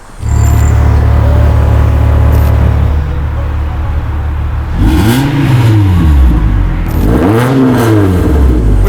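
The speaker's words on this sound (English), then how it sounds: "we're about to film a 2J in a 2J that has the Valvetronic Muffler" A car with a 2J engine and a Valvetronic muffler idles loudly and steadily, then revs hard twice, each rise and fall of the exhaust note sharp and close.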